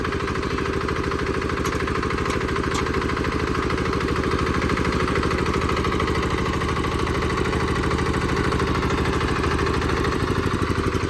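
A Yanmar YA75 diesel tiller engine idles steadily up close, a dense rapid low-pitched thumping with a constant clattering beat that holds unchanged throughout, no voices over it.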